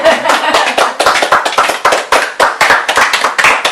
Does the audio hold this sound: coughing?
no